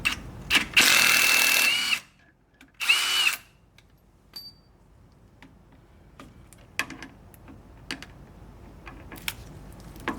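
A power drill or impact tool removes 15 mm lower shock bolts on a 2015–2020 Cadillac Escalade with Magnetic Ride suspension. There are two loud whirring bursts, the first about a second long and the second shorter, followed by quiet clicks and ticks.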